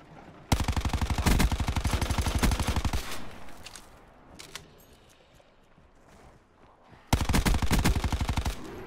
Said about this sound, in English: I don't have time for this gunfight.